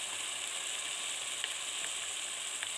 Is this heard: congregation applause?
no